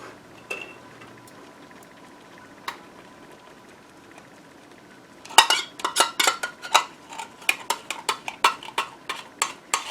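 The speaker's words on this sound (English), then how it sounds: "I've got my tomato sauce. I'm going to stir that around." Tomato sauce being stirred into gravy in a pan: after a quiet start, a run of rapid, close metallic clinks and scrapes of a utensil against the pan in quick rhythmic succession.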